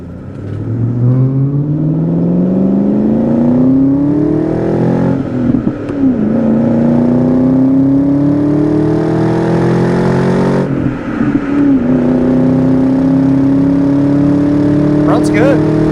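A 1999 Saleen Ford Mustang convertible's supercharged 4.6-liter V8 revs up hard through three gears of a five-speed manual, pitch climbing steadily with brief dips at each shift, loud and close with a whining supercharger.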